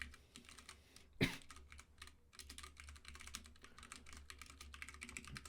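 Go test code is typed on a computer keyboard, a rapid run of soft, close key clicks with one louder thump near the start and a short pause before typing resumes.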